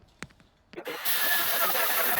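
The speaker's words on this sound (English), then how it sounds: "He's doing some tubing, notching, and grinding" A few sharp metallic taps, then a power tool spins up into a steady high grinding whine while notching and grinding steel roll cage tubing in a fabrication shop; loud and close, with no talk.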